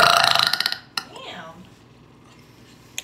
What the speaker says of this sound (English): Someone was asking for you to burp.